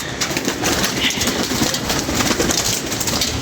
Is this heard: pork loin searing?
no